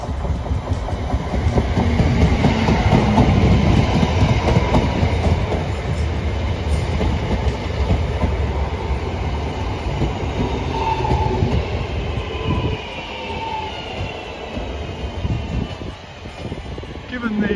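A passenger train on a West Midland Railways line runs along the rails, heard as a loud, steady rumble with rhythmic clickety-clack from the wheels, fading slightly toward the end, while someone talks over it.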